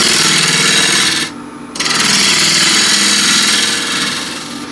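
A bowl gouge cuts across the face of a wooden bowl spinning on a lathe, a loud continuous rough scraping with a brief pause as the tool lifts away before cutting resumes.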